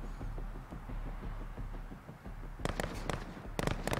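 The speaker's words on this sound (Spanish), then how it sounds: "Están disparando a las luces." Gunfire in Call of Duty: Modern Warfare at an embassy, sharp bursts of shots cracking out in quick clusters over a low rumbling bed of ambience, no talk.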